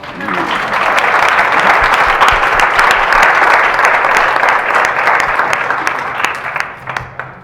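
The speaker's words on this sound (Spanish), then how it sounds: "creo que hay que darles otro aplauso" A conference panel audience claps enthusiastically, a dense burst of applause that holds steady for several seconds before tapering off into scattered claps.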